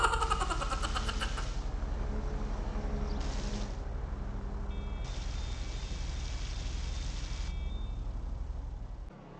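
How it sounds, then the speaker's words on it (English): A Dinka Sugoi sports car with a V8 engine and six-speed gearbox in GTA Online: a steady, even engine drone holds throughout, with a few brief high electronic tones over it, then cuts out at the end. "The Sugoi is powered by a V8 engine, if you can believe it."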